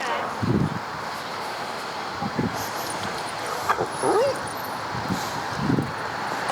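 A reactive dog whimpers and cries in short high whines over steady outdoor wind noise, with a few soft yips scattered throughout.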